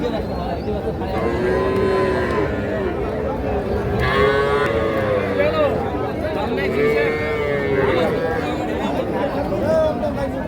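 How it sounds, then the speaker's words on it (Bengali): Cattle at a busy livestock market moo loudly several times, with long drawn-out calls over a constant crowd babble and nearby chatter. "এই পাশে এই গরুটা"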